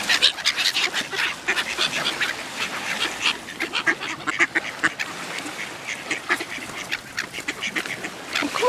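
Small ducklings quack and peep in a busy, continuous chatter while being fed, close by, with many overlapping short calls and no talk.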